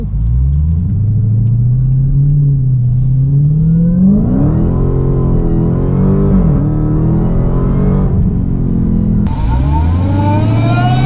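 A Dodge Challenger SRT Hellcat Redeye Widebody's supercharged engine pulls hard under acceleration, a loud, close, rising roar that climbs through gears with brief shift dips and a sharp whine surge near the end, no talking.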